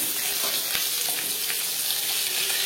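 Whole cumin seeds and potatoes sizzle in oil already used for frying shol fish, a steady close hiss with faint scraping and no speech.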